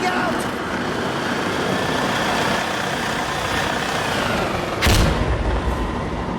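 A frag grenade in Insurgency Sandstorm goes off with a heavy boom about five seconds in, following a dense roar of game noise with gunfire and engine rumble, near and loud.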